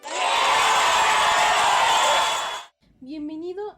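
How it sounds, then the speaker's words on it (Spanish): Crowd cheering and applause for a guest's welcome on a history podcast, a loud dense roar for over two seconds that then cuts off, followed by a voice speaking. "¡Aplausos!"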